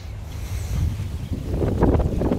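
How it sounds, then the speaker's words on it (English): Gale-force wind gusts buffet outdoors around potted tropical fruit trees, a rough rumbling roar on the microphone that swells and grows louder toward the end, with no talking. "Very windy today. Gale force"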